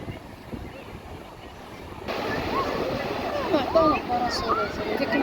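Strong wind blusters and roars across a microphone on a beach by the sea, with surf washing beneath it, loud and constant, while voices talk over the gusts.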